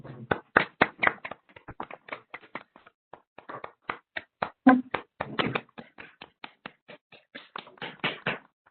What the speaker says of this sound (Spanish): Les pido activar su micrófono para darle un fuerte aplauso a nuestra presentadora.